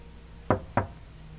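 Two sharp knocks on a door in the video game This Bed We Made, close and distinct, evenly spaced about a quarter second apart against a quiet background.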